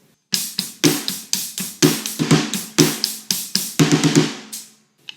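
Drum kit groove on hi-hat, snare and kick drum, close and loud, with sharp rhythmic hits in a busy pattern for about five seconds, ending on a ringing crash-like hit, without any speech.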